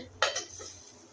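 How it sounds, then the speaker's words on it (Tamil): A metal lid clanks down onto a cooking pot with a short bright clatter and a smaller rattle after, over a faint low hum. "நல்லா ஒரு மூடி போட்டு"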